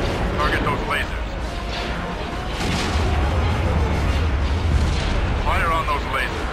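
Starship weapons fire at laser cannons in a Star Wars Empire at War space battle, a dense, continuous barrage of booming blasts and rumbling explosions with short bursts of voice chatter over the top.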